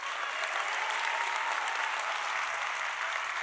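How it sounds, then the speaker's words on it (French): Audience applause at a fashion show, a steady wash of clapping that holds evenly throughout at moderate distance, with no voices on top. "Applaudissements pour Sofiane."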